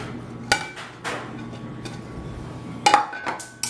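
Cooked, softened nopales being mixed into pico de gallo in a bowl give scattered clinks and scrapes of a utensil against the dish, a few sharper knocks standing out over a quiet background.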